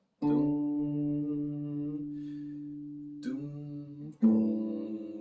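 Three low plucked bass notes on an acoustic guitar ring out one after another, each sustained and fading slowly, clear and close with no voices.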